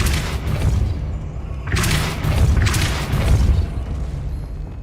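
Repeated heavy booming thuds from the Depulso force spell in Hogwarts Legacy, close and loud, rolling one into the next over a few seconds with a mechanical rumble underneath.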